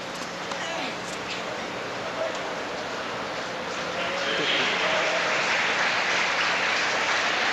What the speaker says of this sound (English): Ironic applause as Kafelnikov wins his second point of this set